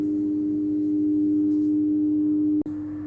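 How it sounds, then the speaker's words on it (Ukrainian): A home uninterruptible power inverter station in an apartment gives off a steady electrical hum with a constant low tone. It breaks off briefly near the end with a click, then resumes more quietly, with no voices present. "Інвертор почав працювати, вже пішов трошки такий шум, гудіння."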